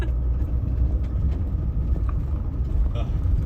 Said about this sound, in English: Driving the logging roads up in Vancouver Island.